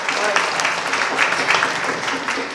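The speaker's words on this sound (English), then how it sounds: "Please give him a round of applause" An audience at a bluegrass concert applauding a fiddler who is playing banjo, a lively burst of many hands clapping with some sharp individual claps, fairly close and steady throughout.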